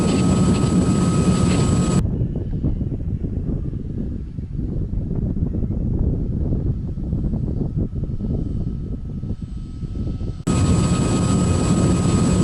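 An E-Flite Apprentice 15e electric RC airplane flies past, its motor whine loud and steady at first, then muffled and more distant for most of the pass before returning loud and close at the end.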